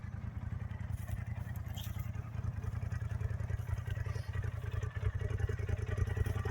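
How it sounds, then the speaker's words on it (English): A Polaris RZR Pro XP 4 Turbo side-by-side idles with a steady, low, rumbling engine throb at an even pace throughout, with no talk. "But we've got the idle running there."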